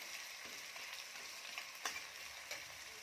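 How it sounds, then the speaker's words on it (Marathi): Five to six large chopped onions frying in oil for Kolhapuri mutton, a soft continuous sizzle with a few sharper pops and crackles, faint and close. "तर कांदा छान रंग बदलेपर्यंत भाजून घेऊया"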